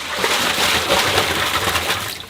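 Water with live fish gushing and splashing into a Lego pond, a dense continuous pour lasting a couple of seconds, close and loud, easing slightly at the end.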